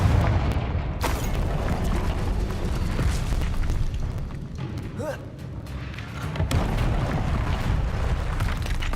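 Confringo blasting spell explosions from Hogwarts Legacy: several heavy booms and thuds erupt amid constant combat rumble, with a sharp hit near the start and another blast later on.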